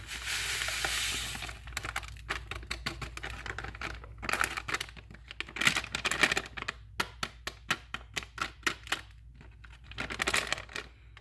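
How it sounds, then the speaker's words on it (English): Gold-bearing dirt is poured from a bag into a gold pan, producing a close rush of pouring grit followed by many quick, irregular gravelly ticks and rattles as pebbles and soil settle. "Let's dump that into the pan."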